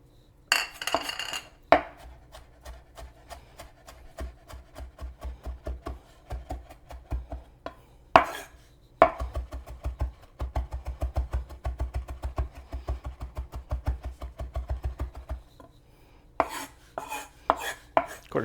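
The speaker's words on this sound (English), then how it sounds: "First we're going to cut up this ginger just a little bit" A knife chops fresh ginger on a cutting board in quick, rhythmic bursts of sharp taps, close and clear, broken by a few louder knocks and short pauses between runs.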